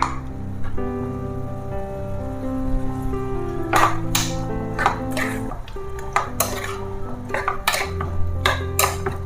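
A squid curry is stirred in a pan over high flame, with repeated sharp metal scrapes and clinks of a spoon against the pan over a low bubbling simmer. No one speaks.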